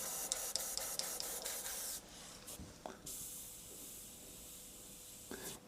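Ammo Atom airbrush spraying paint at very low pressure for fine micro detail work, a soft steady hiss in short bursts close by, with brief pauses between trigger pulls.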